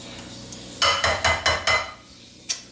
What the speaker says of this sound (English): Yeah, stir it up nice.